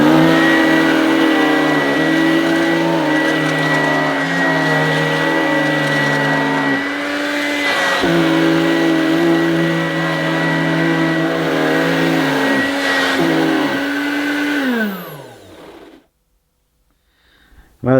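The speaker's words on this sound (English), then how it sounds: "it sounds like the brush was stalling" A Dirt Devil Hardy handheld vacuum cleaner runs with a steady, close motor whine. Its pitch dips briefly a few times as the brush stalls, then it shuts off and falls silent near the end.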